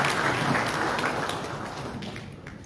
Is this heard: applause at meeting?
yes